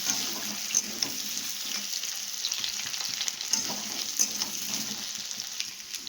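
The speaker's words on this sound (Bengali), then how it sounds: "কড়াইতে তেল গরম করে জিরে ফোড়ন দিয়ে দিয়েছি আর সাথে দিয়ে দিয়েছি আলু আর এই গাছি কচুগুলো" Potatoes and taro fry in a wok of hot oil tempered with cumin seeds. A soft, steady sizzle is broken by occasional stirring scrapes, close up and moderately quiet, with no one speaking.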